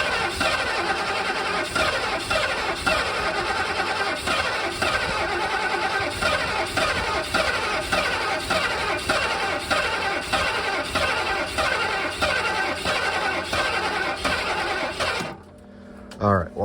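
A 1978 Ford Bronco barn find cranks over repeatedly, the starter churning in a steady rhythmic pulse for about fifteen seconds without the engine catching, then cutting off into near silence.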